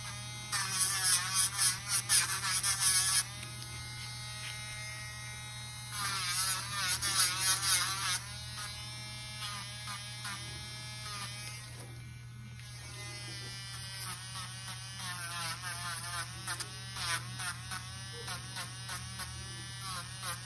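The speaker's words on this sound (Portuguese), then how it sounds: "Vou lixar um pouquinho com ela pra vocês poderem ver. A velocidade sempre na média, tá?" An electric nail file buzzes steadily at medium speed while sanding fiberglass gel nails, a close, continuous high whine rising in stronger zigzag bursts, with a low hum beneath throughout.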